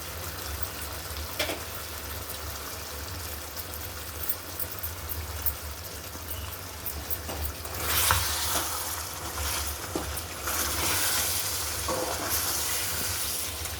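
Tomato puree added to a frying chicken masala curry, sizzling steadily over a low pan hum, growing louder and more intense from about the midpoint with bursts of spattering near the end.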